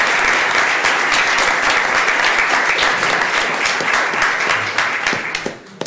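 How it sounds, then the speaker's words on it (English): Sustained applause from a county commissioners court audience, dense steady clapping throughout that thins out near the end. "if you could give them a round of applause"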